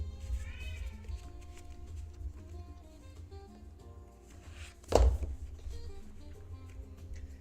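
A pet cat meows briefly, a short rising-and-falling call near the start, followed later by a sharper single burst, all over a steady bed of soft background music.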